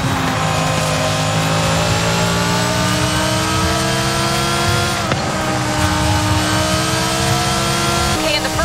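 A Lamborghini Sesto Elemento races in Forza Horizon 5, its engine droning and revving continuously with rising and falling pitch and one brief dip midway.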